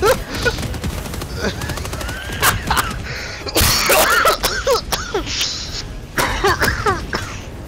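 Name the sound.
big gun firing in video game Helldivers 2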